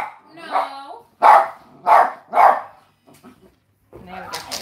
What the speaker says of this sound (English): Don't bark at it, please.